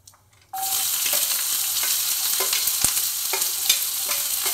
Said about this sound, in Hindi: हाई फ्लेम पर इस प्याज को हमें भूनना है।